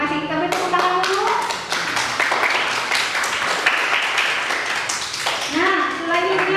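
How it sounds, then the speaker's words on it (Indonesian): A classroom of students claps together after a group presentation, dense rapid hand claps with a teacher's voice and children's chatter mixed in, filling the room throughout. "Kita beri tepuk tangan dulu."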